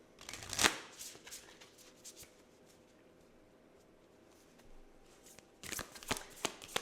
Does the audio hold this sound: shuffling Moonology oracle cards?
yes